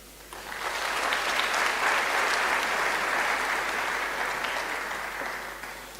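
An audience breaks into steady, dense applause at a public conversation event with former president Thabo Mbeki, swelling quickly and holding for several seconds before easing off.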